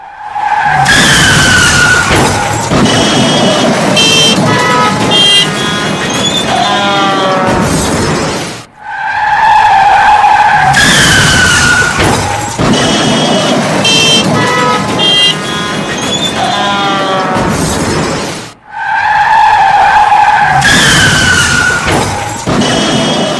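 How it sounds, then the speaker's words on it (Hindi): Cars skid and collide on a foggy expressway. Long, loud tyre screeches with horn-like tones and crunching impacts repeat in three similar runs, each separated by a brief gap. "और देखिए किस तरह से गाड़ियां भिड़ रही हैं।"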